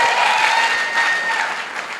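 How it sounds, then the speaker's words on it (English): An audience at a rally applauds, a dense, steady wash of clapping that holds fairly loud for the whole stretch and eases slightly toward the end, with no speech over it. "I keep getting applause"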